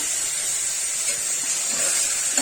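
Mutton sizzles in a pan with ginger garlic paste, a steady loud hiss and crackle of frying throughout, with no voices.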